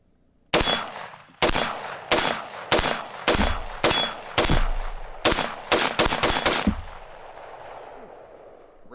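A .223 rifle with a 20-inch barrel fires Freedom Munitions 42-grain lead-free rounds outdoors, roughly a dozen sharp loud cracks at uneven intervals, some in quick succession, each with a short ringing decay.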